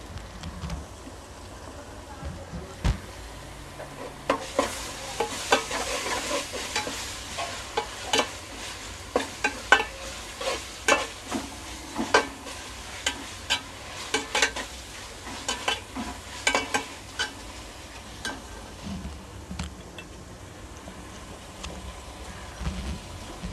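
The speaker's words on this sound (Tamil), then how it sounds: "இஞ்சி பூண்டு கொஞ்சம் இதுவாக இருக்கும் அதனால் இது நல்லா எண்ணெயில் வதங்கட்டும்" Ginger and garlic sauté in oil in a pot for a mushroom biryani, a soft steady sizzle with repeated stirring scrapes and taps of a spoon, close and fairly quiet.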